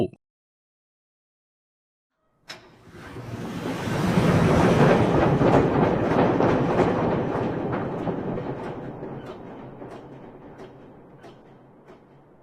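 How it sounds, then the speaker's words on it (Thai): A train on the Chiang Mai to Lampang line rolls into a station after brief silence, its rumble swelling quickly to a loud close roar with rhythmic wheel clacks, then easing off as it slows. "รถไฟใกล้จะมาแล้ว"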